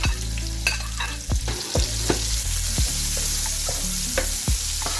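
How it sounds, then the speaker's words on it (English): Onion and garlic frying in oil in a pan for a beef tapa stir-fry, a steady close sizzle broken by several sharp scraping stirs of a utensil against the pan. "Cook your onion and garlic until light golden brown."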